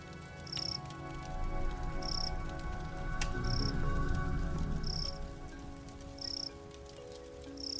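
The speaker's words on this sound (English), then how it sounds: "You hear those? Those are crickets." Crickets chirp in the Detective Foxxy video game: short, evenly spaced trills repeat about every second and a half over a low, steady ambient bed, with no voices.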